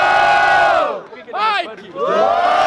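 Crowd at a student rap battle in Guarulhos, São Paulo, roars and chants in loud waves, with massed shouting voices dipping briefly and then surging back.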